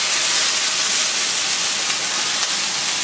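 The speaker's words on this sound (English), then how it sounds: "I'm sure you guys could hear it sizzling." Venison tenderloin sliders sizzle in a pan over medium heat, a steady close hiss of frying with no speech.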